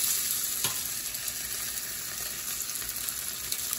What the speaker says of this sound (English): I put some olive or avocado oil in my skillet, and I'm going to put my marinated meat